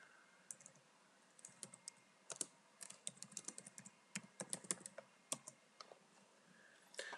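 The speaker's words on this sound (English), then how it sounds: "if I come in here and I edit this document, and I type in here Jane" Typing on a computer keyboard while editing a document, with irregular bursts of quiet close key clicks and short pauses between them, no voices.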